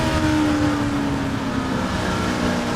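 A Ford Galaxie and Alfa Romeo race cars roar past at the Goodwood Revival, a loud, steady engine drone with slight pitch shifts as the field passes close by.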